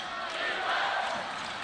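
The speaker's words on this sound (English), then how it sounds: "Crowd chanting defense." A college basketball crowd at a UC Santa Barbara versus CS Bakersfield game chants in unison, a broad, steady roar of many voices filling the arena for under two seconds.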